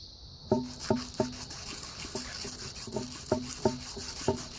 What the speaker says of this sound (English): We're going to polish up the flats by doing circular motions.